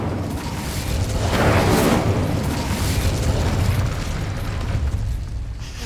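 An Incendio fire spell is cast in Hogwarts Legacy, giving a loud rushing burst like a fiery whoosh that swells within the first two seconds and then carries on as a sustained roaring crackle.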